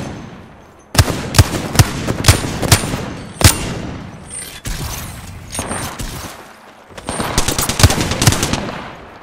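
Video game gunfire: rapid bursts of machine-gun fire and single loud shots crack close by in several volleys, with short pauses between bursts and no talking.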